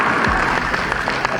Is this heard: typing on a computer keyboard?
no